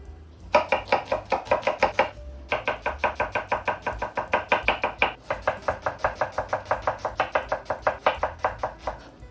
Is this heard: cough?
no